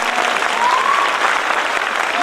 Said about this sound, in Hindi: तो हम चाहेंगे एक बार भगवान श्री कृष्ण के लिए ताली बजाएं।